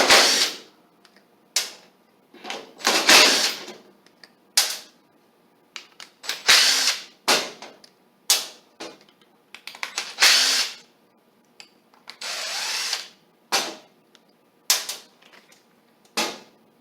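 A power driver backs screws out of a water valve being rebuilt, in repeated loud short whirring bursts separated by brief pauses, close up with no talking.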